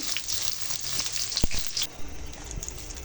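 Dried shrimp fry in hot oil in a pan before being mashed into a shrimp bharta, producing a steady, bright sizzling hiss with occasional crackles and a stirring scrape, close and continuous.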